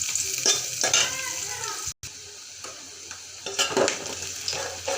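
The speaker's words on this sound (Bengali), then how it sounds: "জিরা, তেজপাতা, লংগুলা ফুটে তার জন্য পেঁয়াজ দিয়ে দিলাম। পেঁয়াজটা একটু নেড়ে দিলাম।" Onions frying in oil with cumin, bay leaves and cloves, stirred in the pan: close sizzling with repeated scraping strokes of a spoon, one brief silent break partway through, no voices.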